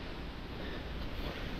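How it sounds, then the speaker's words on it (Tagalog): Strong typhoon wind blows at an outdoor fishing spot, making a steady, dense roar with rumbling buffeting against the microphone throughout. "malakas yung hangin"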